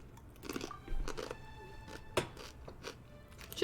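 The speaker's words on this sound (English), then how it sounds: "Chips are crunchy as hell." Crunchy chips being chewed close to the mic in short, irregular crisp bites, with a sharper crunch around the middle and another near the end, no talking.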